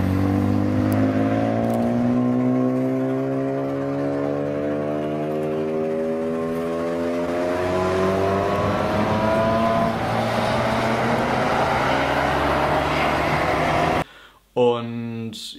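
A BMW 330i E90 lapping the Nürburgring Nordschleife, its engine droning steadily and rising through the gears over a continuous roar, loud and close inside the car until an abrupt cut near the end.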